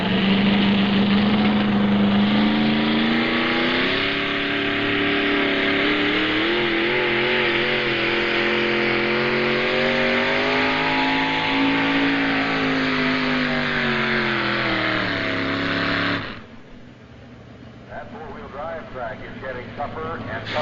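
A four-wheel drive truck at a tractor pull roars under a loud, sustained engine rev that rises and holds for about sixteen seconds before cutting off, with distant crowd noise after and an announcer's voice over the din.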